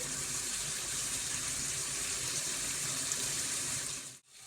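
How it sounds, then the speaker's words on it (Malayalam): Hot sauce is poured into a pan of Chinese beef frying on high heat, giving a constant loud hiss and sizzle that cuts out abruptly near the end. "ഹോട്ട് സോസും കൂടി നമ്മൾ ഇതിനകത്തേക്ക് ഒഴിക്കണ്ടേ"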